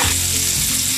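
Onions stir fry in hot oil with garlic and ginger for chicken tikka masala, a dense, loud, unbroken sizzle heard close up with no voices.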